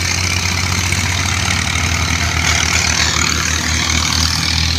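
A tractor engine runs in a farm field, a loud, steady low diesel throb with a slight rhythmic pulse, close by and continuous.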